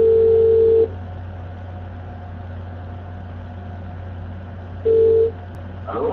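Landline telephone tone after a call is hung up: a steady dial-tone hum runs throughout, with short louder tone bursts at the start and near the end, no talking.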